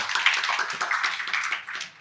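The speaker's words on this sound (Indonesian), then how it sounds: "Kita boleh tepuk tangan dulu dong buat Bunda Isya." A small audience claps in a quick, fairly steady rhythm, moderately close, with scattered individual claps blending together over two seconds.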